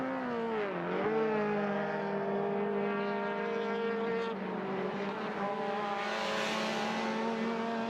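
Saloon race car lapping a circuit during an MRF Challenge race, a sustained engine whine with clear harmonic tones that dip and shift pitch through gear changes, fairly distant and steady, no commentary heard.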